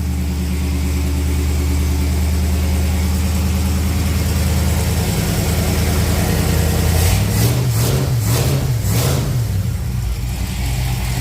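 A Ford F100 V8 runs loud and close after a new MSD ignition install, a rough steady idle that rises into several quick revs of the throttle before settling again.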